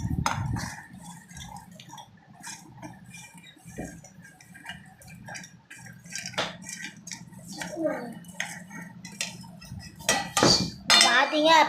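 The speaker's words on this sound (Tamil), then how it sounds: "இதை நம்ம வந்து மிக்ஸியில் போட்டுக்கலாம்." Pieces of broken Oreo biscuits are dropped into a metal mixer jar, making scattered clinks and light taps that grow busier and louder toward the end, with a little talking in the background.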